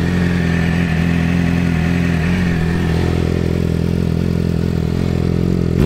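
A 2018 Yamaha R6 motorcycle engine idles loudly and steadily up close, its even drone running throughout before a brief rev at the end.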